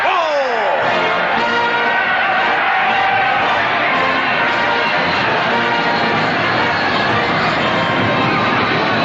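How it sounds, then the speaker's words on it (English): A large crowd roars and cheers at an aviator's victorious arrival, a dense, sustained wash of voices that stays loud throughout. "Just listen to that crowd roar!"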